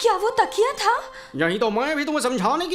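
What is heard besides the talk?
No distinct noise like a dog, phone or traffic.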